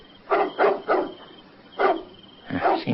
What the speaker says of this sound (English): and that's a dog barking at nothing